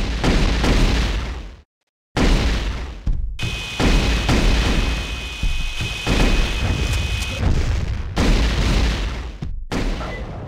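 Loud, dense video-game combat from the retro-styled T2 shooter: plasma rifle fire and explosions in nearly continuous bursts, with brief silent gaps and a sustained high whine partway through.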